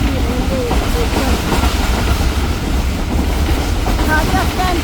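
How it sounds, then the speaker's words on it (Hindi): Subak Raftar railcar train running non-stop through Kharia Cantt railway station, heard from on board as a loud, steady rumble and rattle of wheels with faint clicking throughout. "अभी हम लोग क्रॉस कर रहे हैं खारिया कैंट रेलवे स्टेशन और नॉन स्टॉप क्रॉस कर रहे हैं"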